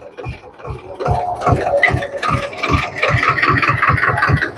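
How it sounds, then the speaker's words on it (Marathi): A tractor engine runs close by as it heads off to fetch water, its steady low rhythmic chugging continuing throughout, with faint background sounds over it. "हे बघा ट्रॅक्टर चाललं पाणी भरायला"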